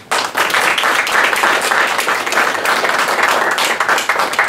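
A crowd at a wrestling championship roadshow in Meulan applauds in tribute to Georges Ballery, loud dense clapping that starts abruptly and holds steady throughout.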